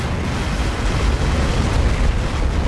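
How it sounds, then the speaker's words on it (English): An explosion in the video game Men of War Assault Squad 2 makes a loud, dense, sustained rumbling roar, heavy in the low end, that fills the whole moment without a break. "You're gonna need to watch this explosion."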